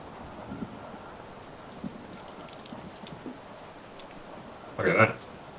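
Storm sound effect, a dust storm, played during a tabletop role-playing game: a steady rain-like hiss with faint rumbles, then a loud, brief thunderous burst near the end.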